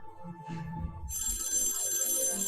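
A telephone rings in an episode of the Marvel series Loki, a bright electronic ring that cuts in suddenly and holds steady, following a stretch of low music and muffled sound.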